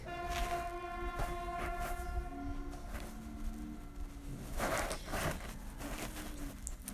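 A train rumbles through a valley tunnel at over 60 mph, a sustained horn blaring in long tones over rolling wheel noise, moderately loud and reverberant.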